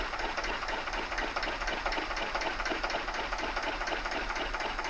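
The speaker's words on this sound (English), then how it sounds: "There's just a little sound of the engine." A Russell Newbery DM2 diesel engine runs aboard a 1983 70-foot Les Allen trad narrowboat, a steady, even mechanical chug with a fast regular beat, moderately loud and continuous, with no talking.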